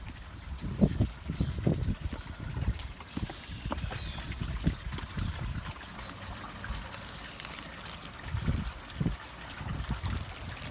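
Water is poured into a bucket holding goji berries to soak them, giving an uneven trickling and splashing that comes in several bursts over the clip, fairly close and moderately loud, with no talking.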